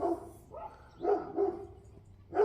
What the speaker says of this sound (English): You just can't escape those dogs.